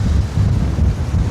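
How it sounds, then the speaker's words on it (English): Strong wind buffets a handheld camera microphone beside a maar volcanic lake in the Grampians, a loud, rumbling low-frequency roar that swells and gusts unevenly throughout, with no voices. "it's so windy"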